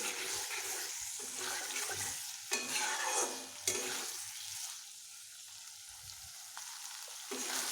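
Fish curry masala for a parshe fish dish sizzles as it is sautéed in a pan. Stirring scrapes and clanks come in uneven bursts with brief louder spitting moments.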